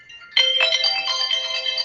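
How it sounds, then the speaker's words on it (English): A phone rings loudly and close by with a bright electronic ringtone that starts suddenly and keeps up a warbling pattern for almost two seconds, with no talking over it. "let me turn my phone off"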